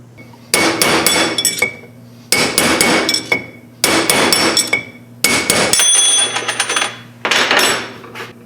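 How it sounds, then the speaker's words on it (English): A hammer pounds an old brake-drum bearing race out of its hub on a 1968 Javelin with a lathe-turned bearing driver, five loud bursts of rapid ringing metallic blows, close up, with short pauses between them. "So we're going to pound out whatever race that is and put in the Timken races."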